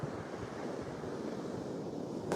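Soft, continuous wash of sea waves on a shore, mixed with low wind rumble against the microphone, no voices.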